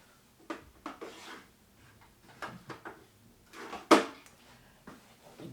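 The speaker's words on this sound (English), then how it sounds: "Go to my pen drawer." A pen drawer slides and rattles open with a series of wooden scrapes, knocks and rubbing sounds, ending in a louder clunk, close by with no talking.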